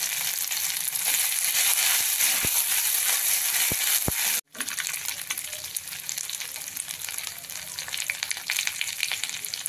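Mustard seeds, cumin and a ginger, garlic, green chili and coriander paste sizzle in hot oil over a low gas flame for a jackfruit vegetable dish, a steady bright hiss with a few sharp clicks and one brief dropout.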